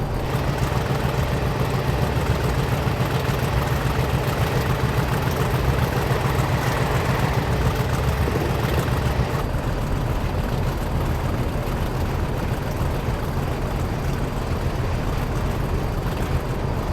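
Class 50 diesel locomotive engine in a train simulator, running on a Bristol to Penzance route, giving a steady low drone and rumble that stays constant throughout without talk.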